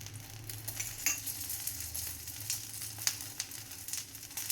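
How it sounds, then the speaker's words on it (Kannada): Thatte idli cooking in oil on a hot pan, a steady close sizzle with crackling pops and occasional scraping stirs, continuous throughout. "ಸುತ್ತ ಸ್ವಲ್ಪ ಎಣ್ಣೆ ಹಾಕೋಣ. ಈ ಥರ ಎರಡೂ ಕಡೆನೂ ಬೇಯಿಸ್ಕೋಬೇಕು."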